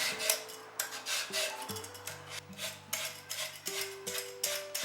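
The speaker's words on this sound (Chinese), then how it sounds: "买回来的莲藕先清洗干净，再去皮。" Quiet scraping of a peeler over fresh washed lotus root in a home kitchen, repeated short rasping strokes with light tool clicks over faint background music.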